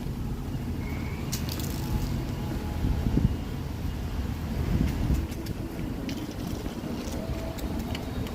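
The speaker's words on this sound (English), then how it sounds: "with that cool wind coming in from the coast" Cool coastal wind gusting along Market Street in San Francisco on a sunny day, a steady low rumble of wind buffeting the microphone with distant city traffic faintly beneath, no talk.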